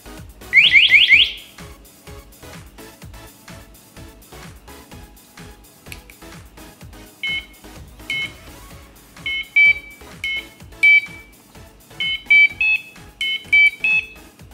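A homemade Arduino Nano LED Simon Says game gives a rapid rising electronic trill at the start, then series of short, clear high-pitched beeps in quick groups, close and loud over a faint steady ticking.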